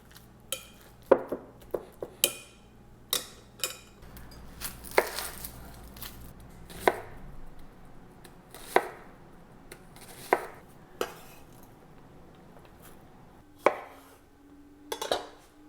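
Avocados are mashed in a bowl for guacamole, with sharp separate knocks and clinks of a utensil against the dish at an uneven pace, some in quick clusters and others spaced apart, close and without talk.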